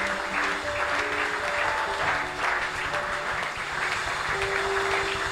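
A church congregation at a Sunday service claps in a sustained wash of applause, with faint sung or held tones running underneath throughout.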